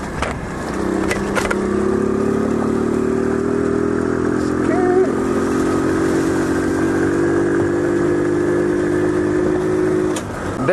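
A Trail 70 CT70 clone minibike engine runs steadily while riding off road on dirt, a close, constant buzzing drone that holds an even pitch with little revving.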